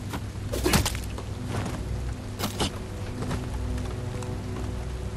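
Steady rain in Bright Memory Infinite during a stealth section, a continuous wash of falling water with a few brief louder thuds, no speech.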